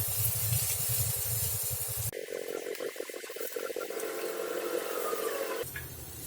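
Brinjal marinated in salt, chilli powder and turmeric fries on a mud tawa, giving a continuous spraying sizzle that shifts in tone partway through and keeps hissing steadily to the end.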